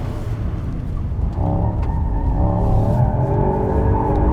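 Mercedes-AMG GT 63 in Drift Mode as rear-wheel drive with 585 hp, a loud sustained engine roar with rising revs and tire noise, continuous and close throughout.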